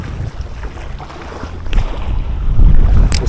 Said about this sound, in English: we've got a cracking wind today, firing right at us